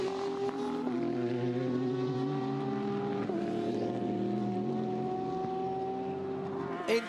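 Race cars at the 2019 Mobil 1 12 Hours of Sebring drone past at the finish, a steady blend of engine tones rising and shifting in pitch as cars pass, loud and continuous with no talk.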